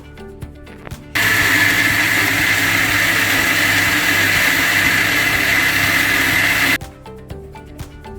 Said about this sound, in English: I'm going to grind the first part of the paste, the ingredients into the jar